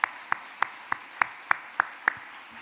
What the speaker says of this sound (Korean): 우리 모든 사역자들을 위해서 우리 박수 한번 합시다